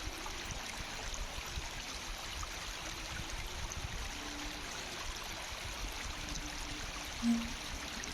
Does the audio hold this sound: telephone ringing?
no